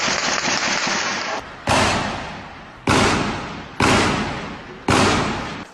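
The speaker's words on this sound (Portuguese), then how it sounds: "Ainda era madrugada quando os disparos começaram." Five loud, sharp gunshot blasts at dawn in Mangueira, spaced about a second apart, each a sudden bang with a long decaying echo, no voices.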